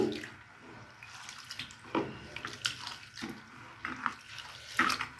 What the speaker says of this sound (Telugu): 2-3 సార్లు శుభ్రంగా కడిగేసుకోవాలండి